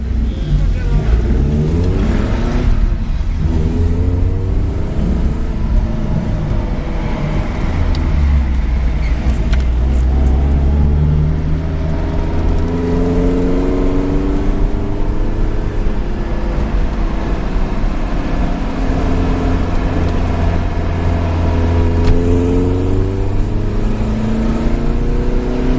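An Alfa Romeo GTV pulls away on a September run up the Saltburn hill climb, its engine note rising and falling through the gears, loud and close throughout, with an occasional voice over the engine.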